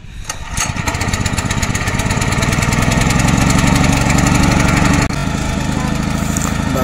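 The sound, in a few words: mini tractor engine started and running in paddy field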